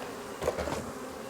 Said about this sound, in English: So I'm gonna, unfortunately, be blowing bees towards the camera.